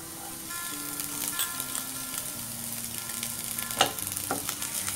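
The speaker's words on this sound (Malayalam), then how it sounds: "ഇഞ്ചി ഏകദേശം മൂത്ത് തുടങ്ങിയിട്ടുണ്ട്. ഇനി ഇതിലേക്ക് പച്ചമുളക് ചേർത്ത് കൊടുക്കാം." Ginger and chopped green chilies fry in hot oil for a puli inji relish, giving a steady, close sizzle with faint utensil scrapes and one sharper clack near the end, no voices.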